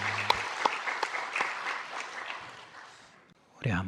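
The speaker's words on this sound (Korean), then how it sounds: "우리 하나님께 영광의 박수 올려드립니다" A church congregation claps together for several seconds in warm, sustained applause that fades out, then a voice begins speaking.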